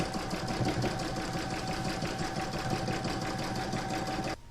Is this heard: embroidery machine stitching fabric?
yes